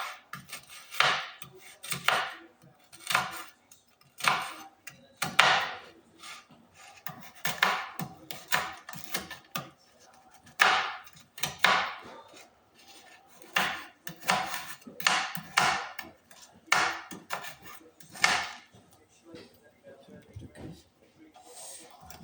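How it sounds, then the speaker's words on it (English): A knife chops through Oreo cookies for cupcakes in a series of crunchy, scraping strokes, irregularly spaced about every second or so, close and fairly loud. "So first we're going to chop our Oreos."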